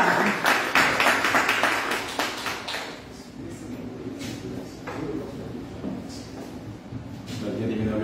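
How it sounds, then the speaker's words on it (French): A church congregation applauds, loud dense clapping for the first few seconds that thins into scattered claps and taps, with someone speaking over the fading applause. "on va applaudir le Seigneur et cet esprit qui est dans sa vie"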